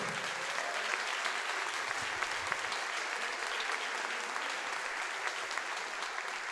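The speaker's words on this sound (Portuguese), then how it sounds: "Vamos aplaudir ao nosso Senhor." A church congregation claps steadily together during a worship service, dense and sustained applause filling the room throughout with no speech on top.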